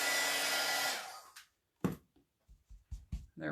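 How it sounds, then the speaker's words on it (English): A heat gun blows steadily for about a second and a half, drying ink on a pillow cover, then cuts off, followed by a few faint knocks and handling sounds. "I'm just using a heat gun, but you can use a blow dryer."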